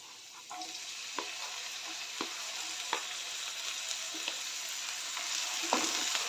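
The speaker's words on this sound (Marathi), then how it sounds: "कांदा चांगला परतून घ्यायचा आहे" Onion and tomato sauté in a pan for okra bhaji, giving a soft continuous sizzle with a light stirring spoon tapping the pan at regular intervals.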